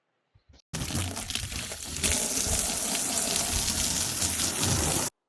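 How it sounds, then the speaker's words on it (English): A garden hose sprays water in a steady close gush onto an old antique dresser, starting abruptly after a few faint knocks and running loud until it cuts off. "I just sprayed it down with my hose and then dried it off immediately after doing that"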